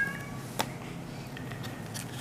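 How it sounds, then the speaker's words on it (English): A single faint meow from a male cat indoors, brief and soft over a steady background hum. "What is he meowing about?"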